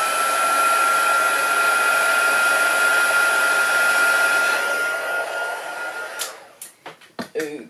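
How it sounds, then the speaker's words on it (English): A heat gun blasts steadily to dry embossing on a handmade card, a loud continuous blowing roar that winds down and stops, followed by a few sharp clicks and taps. "Now I'm going to just blast that very quickly with my heat gun"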